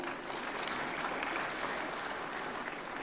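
Steady, even applause from a large audience at a national film awards ceremony, a dense wash of clapping with no pauses.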